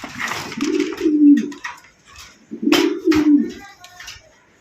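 A pair of White Pakistani Sirazi pigeons coo close by in two long, rolling phrases, with a soft gap between them and faint chirps around.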